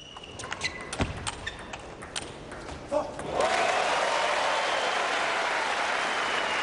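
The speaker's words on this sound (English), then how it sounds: "Huge roar from the crowd." At a table tennis Men's World Cup final, Samsonov against Chen Qi, a few ball and bat knocks are followed by a sudden loud burst of crowd applause and cheering that continues steadily.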